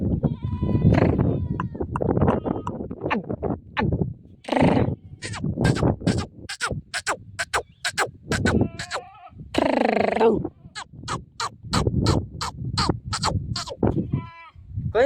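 Goats bleat close by in a long run of repeated wavering cries, several overlapping at a time, with a few voices breaking in between.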